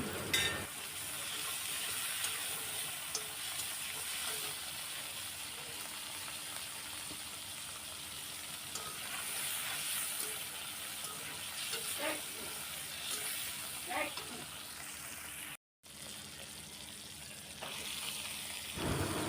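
Salted hilsa fish frying in mustard oil, a steady close sizzle and crackle with occasional stirring clatter, continuing without speech apart from a brief dropout near the end.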